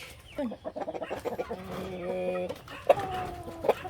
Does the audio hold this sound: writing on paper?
no